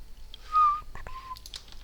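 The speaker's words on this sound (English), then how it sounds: "I know I'm not supposed to whistle while I have my headset on" A person wearing a headset whistles a short, sliding note that is close and clear, followed by a couple of quick chirps and some light clicks in an otherwise quiet room.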